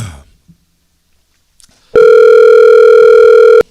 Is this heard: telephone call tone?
yes